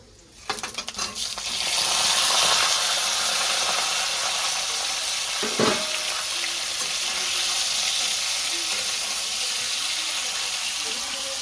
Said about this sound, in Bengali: এবার আমটা দিয়ে দেবো তেলে